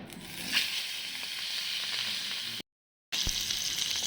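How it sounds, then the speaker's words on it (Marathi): Crushed coriander and green chili hit hot oil in a pot, giving a close, steady sizzle with a brief flare near the start. It cuts out to silence for about half a second, then the frying resumes. "कोथंबीर आणि मिरची पण ठेचून घ्यायची आहे सोडूया आपण एक एक तेलामध्ये"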